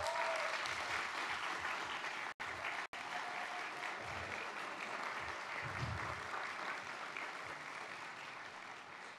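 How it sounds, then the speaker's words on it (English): Sustained audience applause fills a conference hall at the Duke-UNC Rotary Peace Center gathering, a dense, steady wash of many hands clapping that runs the whole stretch and eases off slightly toward the end, with no talking over it. "give you a round of applause"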